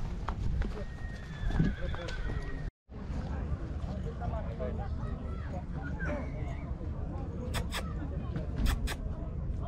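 A stallion nearby, with a neigh and hoof clip-clops among outdoor background noise and people talking, in Vaslui, Romania.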